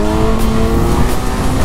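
Kawasaki Versys 1000 touring motorcycle from 2014 accelerating hard in second gear, a loud, close, steady engine roar with wind noise and no pause.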